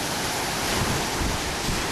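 Storm waves and surf roll in after Hurricane Irene, a loud, steady roar of breaking water mixed with wind buffeting the microphone, with no voices.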